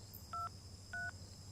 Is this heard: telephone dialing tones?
yes